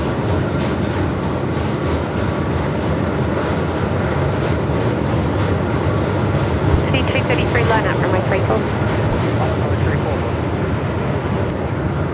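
A Jetstar airliner arriving at Melbourne from Sydney in strong 45-knot winds makes a loud, continuous rushing engine roar, with a voice speaking briefly partway through.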